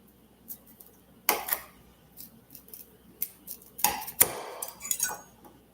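A kitchen knife cuts through a beet on a cutting board, giving a few sharp, crisp chops and clicks against the board, with quiet gaps between the cuts.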